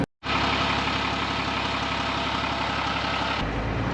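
Ex-army Unimog truck engine, a 9-ton expedition vehicle crossing desert sand dunes, a loud, steady close diesel drone with a low rhythmic throb throughout, after a brief silent start.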